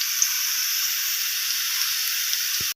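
Green chillies hit a pan of lightly browned potatoes with a steady, even sizzle, a loud bright hiss holding without a break, closed by a soft knock at the end.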